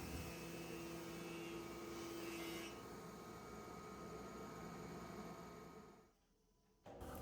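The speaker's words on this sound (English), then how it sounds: "It's pretty amazing to watch the amount of material that gets sucked up by the dust collector." A dust collector pulls in wood chips while walnut is routed, a loud steady roaring whoosh with a constant hum that holds for several seconds, then drops away briefly before resuming.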